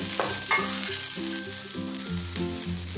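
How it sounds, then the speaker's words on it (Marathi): Onion and tomato frying together in a pan sizzle close by for a Maharashtrian matki usal dish. Faint stirring scrapes sound alongside, and no one talks while it cooks. "आपल्याला यामध्ये टोमॅटो घालून घ्यायचा आहे"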